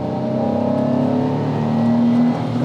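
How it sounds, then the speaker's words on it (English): A Honda NSX-R engine heard from inside while driving, with a loud, steady, raspy intake roar holding close and even, its pitch rising gently under load. "that intake sound right next to you is so good"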